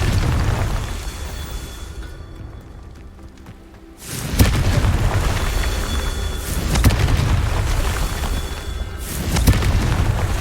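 Confringo fire spells explode during a Merlin trial in the game Hogwarts Legacy: a heavy boom hits after a brief quiet gap, followed by another blast later, all over a thick rumbling bed of game sound.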